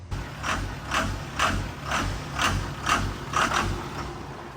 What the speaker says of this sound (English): we forgot to test the power steering pump